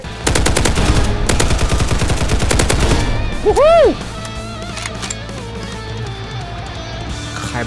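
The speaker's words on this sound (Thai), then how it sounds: "ยิงไล่หลังมาวะ" Rapid automatic gunfire in the Roblox Hypershot shooter game, loud dense bursts of shots in the first few seconds followed by a swooping effect tone and lighter scattered game sounds.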